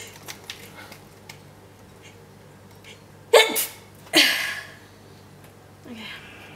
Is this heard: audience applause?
no